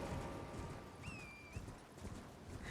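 A horse in the video game Elden Ring gives a brief whinny call amid a steady patter of hoofbeats on the ground, heard moderately close and without talk.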